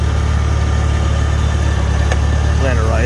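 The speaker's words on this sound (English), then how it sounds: "Let it idle." A car engine idles steadily in front of a barn after a drive around a loop, a constant low, even rumble close to the microphone, with a brief voice near the end.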